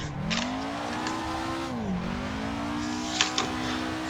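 A low-power car drifts in second gear through Ebisu School Course in Assetto Corsa, its engine holding a steady droning rev that dips briefly and climbs again, with faint tire squeal and a couple of short clicks.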